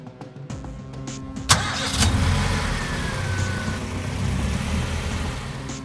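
A monowheel vehicle in a video game starts up with a sharp ignition burst, then its engine settles into a steady, loud mid-pitched rumble that continues throughout, with a faint rising whine partway through.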